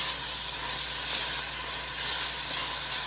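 Onions sizzle and fry in an Instant Pot Dutch oven for minestrone soup, a steady, bright, hissing crackle that holds up close and even throughout.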